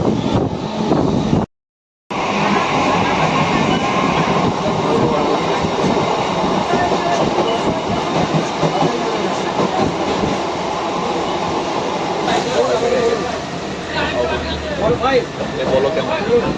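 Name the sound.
Krishnanagar local train running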